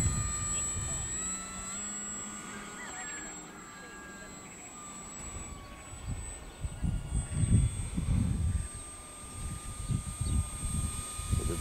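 A radio-controlled FMS Ranger Plus 1800mm foam model airplane's whining electric motor drones steadily in the distance, with strong gusty wind rumbling and buffeting loudly over it.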